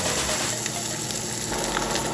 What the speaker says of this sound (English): The sizzle. The sizzle. The sizzle.